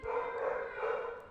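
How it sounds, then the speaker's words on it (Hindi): A dog barks outdoors in the background, a steady, moderately distant sound across the whole short stretch with no talk over it. "ये कुत्ता भौंक रहा है।"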